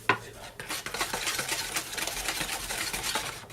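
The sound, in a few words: stirring chocolate fudge cake batter in a bowl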